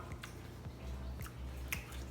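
Crunchy bacon and pork chili being chewed up close, quiet repeated crunching bites in an uneven rhythm with soft squishy mouth sounds between.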